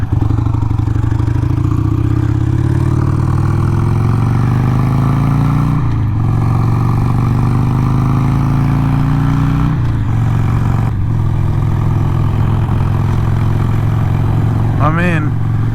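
A Harley-Davidson Sportster 883 motorcycle roars loudly under way, its engine pitch climbing through gears with brief dips at the shifts, accompanied by rushing air.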